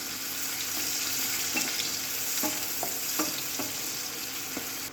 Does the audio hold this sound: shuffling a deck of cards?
no